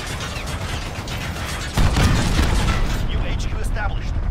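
Cruise missile strikes in the online shooter Call of Duty: Modern Warfare land partway through as a loud, rumbling burst of explosions over continuous game noise, with voices heard throughout.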